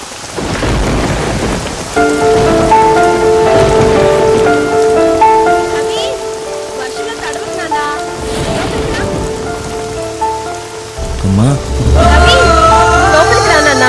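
Heavy rain pours steadily outdoors while thunder rumbles, with a strong, continuous downpour throughout; tonal music and voices rise and fall over the storm.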